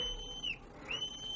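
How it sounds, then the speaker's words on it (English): A whistle is blown in a radio drama, giving two short shrill blasts with a brief gap between them, moderately loud over faint background hiss. "so in desperation I blew my whistle."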